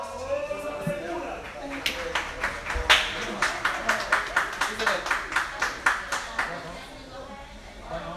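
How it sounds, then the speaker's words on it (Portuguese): An audience at a comedy roast show gives a round of applause, scattered claps growing into a steady rhythmic clapping in time, fairly close, with talk and murmuring underneath before fading at the end. "Recebam com muitos aplausos o meu próximo grelhador."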